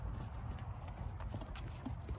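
Horses walking near a grain bucket on a farm, their hooves clip-clopping in a steady, soft, irregular rhythm against low background rumble, with no talking.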